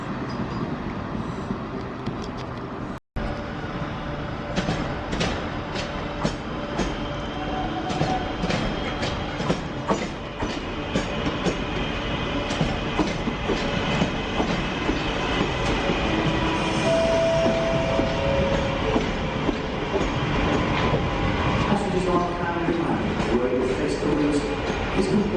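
A train rolls past on a railway line in the West Midlands, a loud, sustained rumble with steady wheel clatter and occasional high squeals throughout, with a brief dropout near the start and some voice underneath.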